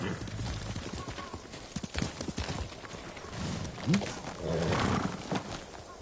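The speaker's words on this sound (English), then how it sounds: "Horse!" Horse hooves clip-clopping at moderate volume in the video game Ghost of Tsushima, mixed with other game sounds and spoken dialogue.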